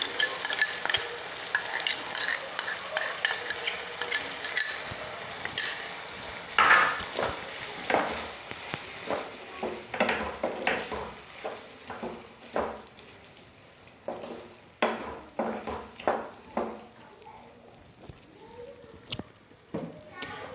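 Spiced yogurt being stirred into softened potatoes and peas in a pan, with a spoon scraping and clinking against the metal in uneven strokes and soft sizzling beneath, close up, with no talk.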